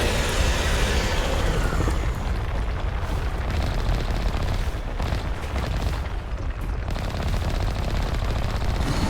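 Sustained, loud video game gunfire in Mass Effect as a vehicle turret pointed almost straight up fires at a tentacle, heavy rapid bursts and booming impacts rolling continuously with no pause.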